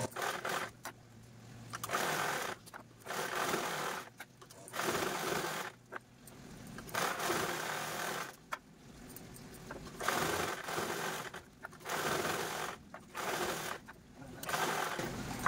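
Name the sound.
sewing machine quilting purse fabric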